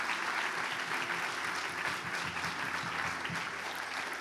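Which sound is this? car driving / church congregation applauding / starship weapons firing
church congregation applauding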